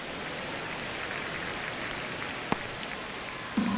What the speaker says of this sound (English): crowd getting settled here at Dodger Stadium